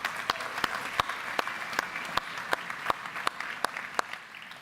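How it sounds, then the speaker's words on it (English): Audience applause at the Unite 2023 APAC conference, a crowd clapping steadily with sharp individual claps standing out in an uneven rhythm, moderately loud with no voices over it. "give yourselves a round of applause"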